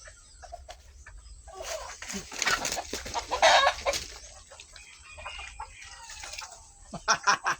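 Chickens clucking nearby in short, uneven bursts, with a few louder squawks and some rustling movement around them.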